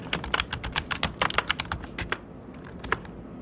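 Fingers tap out a file name on a computer keyboard in a quick, close burst of clicks, then slow to a few isolated keystrokes.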